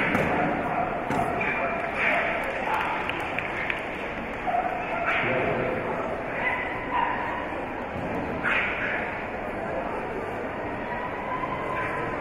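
An 8-year-old Bedlington Terrier barks in short bursts at an agility competition, sharp yips scattered over a steady arena din while a commentator talks throughout.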